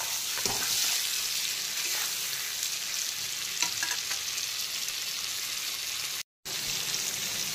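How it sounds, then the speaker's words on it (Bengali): Prawns frying in oil for a chapra chingri dish, giving a loud, steady, close sizzle that runs without a break apart from one brief dropout near the end, with no talking. "চিংড়িগুলো কিন্তু ভাজা হয়ে গেছে, মিডিয়াম ফ্রাই হয়ে গেছে"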